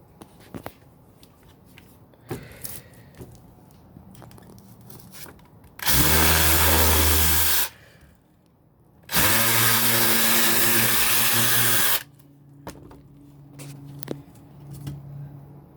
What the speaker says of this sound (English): So let's test out the sander.